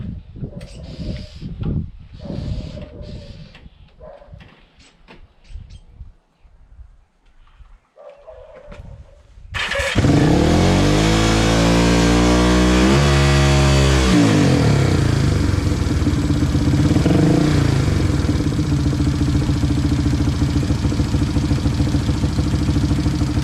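A Honda CB350 motorcycle engine fires up abruptly after a quiet stretch, then runs loud and close with revving that rises and falls before settling into a steady, throbbing idle.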